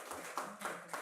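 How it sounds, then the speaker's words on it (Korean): A few members of a church congregation clap at a Sabbath worship service, roughly three distinct, evenly spaced claps over about a second, fairly soft with light room echo. "박수 좀 부탁드리겠습니다."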